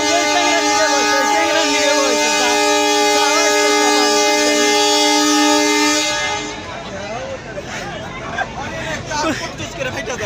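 A local train's horn blares loud and close in one long sustained tone for about six seconds, then gives way to the rumble of the running train and a babble of crowded passenger voices.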